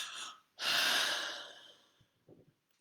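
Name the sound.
yawning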